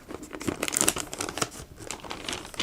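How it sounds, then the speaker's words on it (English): Tape is pulled and pressed down along the sides of a paper artist's palette, giving close, irregular crinkles and short tearing bursts at a quiet level. "Just tape it down the back side on all four, both these two sides and these two sides."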